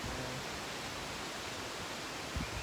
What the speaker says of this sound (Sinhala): එනදී වතුර ටික යනවා.